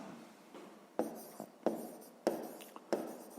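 A pen writes by hand on paper while a sixth-grade math exercise is worked out, with soft scratchy strokes and several sharper taps in an irregular rhythm, close and quiet.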